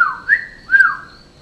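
Two short rising-and-falling human whistles, clear and fairly close, separated by a brief pause, with no talking, inside an abandoned nightclub.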